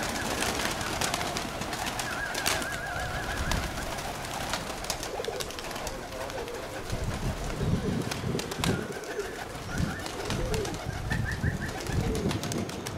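Armenian fighting pigeons coo repeatedly in a loft, with soft rhythmic calls and fluttering amid light background noise; a voice is heard faintly.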